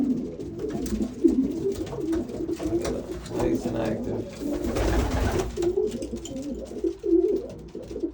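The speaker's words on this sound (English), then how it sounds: "Extreme long distance pigeon right here" Racing pigeons coo and rustle in a busy loft, their soft calls close by, while someone talks over them.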